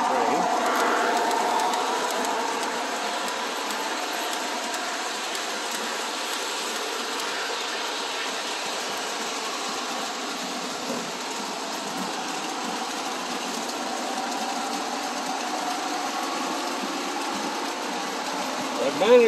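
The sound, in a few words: toy train running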